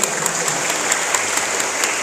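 Steady, dense applause from an audience at a Ciamis regional election outreach event, sustained and fairly loud throughout with no voices on top.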